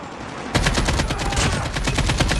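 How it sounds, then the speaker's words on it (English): Rapid automatic gunfire from a hostile sentry gun in a military video game bursts in after half a second of quiet and keeps hammering in a dense, steady stream of close, loud shots. "Hostile sentry gun in your AO."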